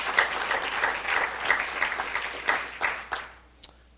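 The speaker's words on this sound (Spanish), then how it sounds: "Dele un aplauso, por favor." A church congregation claps during a Sunday school sermon, a lively burst of close applause that swells, then tapers off and falls quiet after about three seconds.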